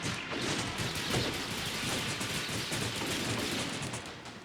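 Dense, continuous bursts of rapid gunfire with crashing impacts, loud and sustained throughout, like an intense firefight in the video game Slaps & Beans.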